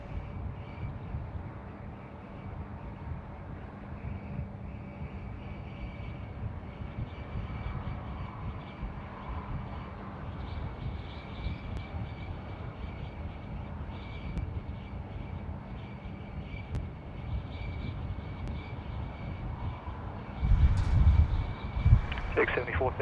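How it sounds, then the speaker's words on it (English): A Toll freighter aircraft at Sydney Airport produces a distant, steady engine roar that lasts throughout, mixed with wind noise. Someone talks over it, and air traffic control radio chatter can be heard. "Here we go, freighter time."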